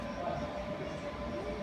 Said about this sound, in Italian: In questa stazione ci sono sempre treni vivalto.